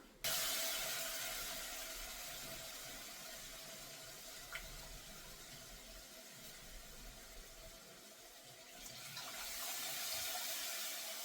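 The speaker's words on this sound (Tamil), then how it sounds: "இப்போ கரைச்சி வச்ச புளியை ஆட் பண்ணிக்கலாம்" Dissolved tamarind water is poured into a cooking pot, making a quiet, steady splashing stream that runs for several seconds and swells again near the end.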